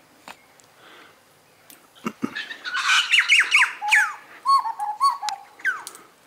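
A bird at a lake at Loch Sport squawks while feeding, giving a quiet start and then a run of repeated, fairly loud harsh calls in quick succession, close by with no talking.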